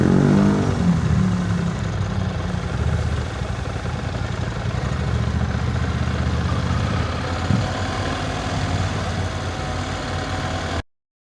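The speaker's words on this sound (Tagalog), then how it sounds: "ito yung bagong motor ni Boss Pete. Tenere 700" A 2023 Yamaha Tenere 700 motorcycle engine runs steadily close by, a loud, even low rumble at idle that holds throughout before cutting off abruptly at the end.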